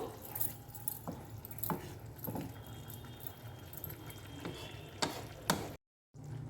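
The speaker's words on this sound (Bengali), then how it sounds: "হাফ বাটি জল আলগা একটু নেড়ে দেবো" Soya chunks and water are stirred in a pan: a low wet sizzle runs throughout, broken by sharp, irregular spoon scrapes and clinks against the metal, close by.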